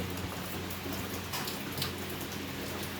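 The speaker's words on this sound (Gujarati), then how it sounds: "વરસાદ પડે ધીમે ધીમે" Light rain falling steadily in a village, a soft continuous patter with faint scattered drops, fairly quiet and even throughout with no voices.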